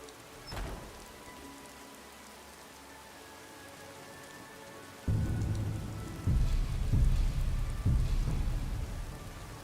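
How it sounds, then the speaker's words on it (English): Steady rain patters through a storm in the Skyrim Lorerim modpack, with a sharp thunderclap early on, then heavier downpour gusts and low rumbles building in the second half, with no talk. "Right, so it's raining now, so fire spells would be weakened."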